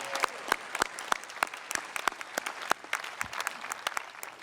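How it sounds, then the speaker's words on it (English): Commencement audience at a graduation ceremony applauds an honoree, John Bishop, with sparse, scattered claps from a thin crowd, individual sharp hand claps standing out at a distance over a quiet hall. "Mr. John Bishop, another round of applause."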